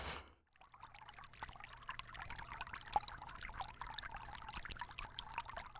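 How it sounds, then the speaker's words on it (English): Garden hose with a sprayer filling a bird bath basin, a soft continuous pour and trickle of water running steadily throughout after a brief gap at the start. "I fill it up with a hose and a sprayer."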